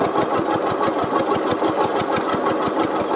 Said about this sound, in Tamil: இன்ஜினோட சவுண்டு கேட்கும்னு நினைக்கிறேன்.